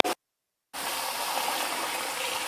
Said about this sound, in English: let's turn this cold water on here real quick